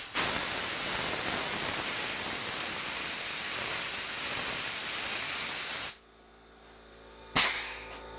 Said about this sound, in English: So you can see it sprays on there very easily.